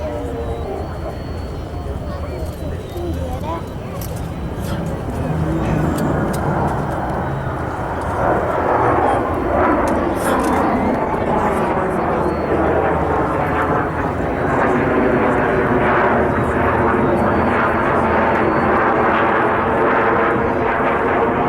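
Blue Angels jets flying in formation at a 1997 military air show at Quonset ANGB, a loud continuous roar of jet engines that swells and sweeps overhead for about twenty seconds, with crowd chatter faintly mixed in.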